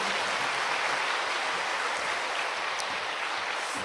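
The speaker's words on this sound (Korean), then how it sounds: "뜨거운 박수로 모셔 듣겠습니다" A church congregation at an evening revival service applauds warmly to welcome the pastor to the pulpit, a steady, even wash of clapping held throughout.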